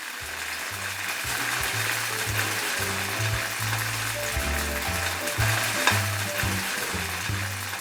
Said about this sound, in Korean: 튀김 소리는 언제 들어도 좋지 않나요?